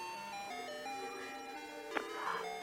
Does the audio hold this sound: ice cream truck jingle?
yes